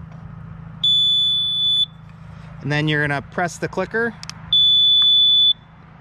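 Mighty Mule MMS 100 gate opener receiver giving two steady, sustained electronic beeps while remotes are programmed, close and clear, with someone speaking briefly between them over a low hum.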